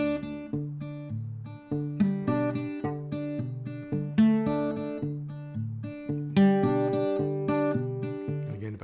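Fingerstyle blues guitar plays an exercise up to tempo, with a steady plucked bass pulse and chords landing slightly ahead of the beat, close and clear with no talking.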